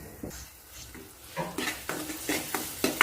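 Brinjal masala curry fries in oil, a quiet sizzle that grows louder in its second half, punctuated by sharp spoon-on-pan stirring clatters.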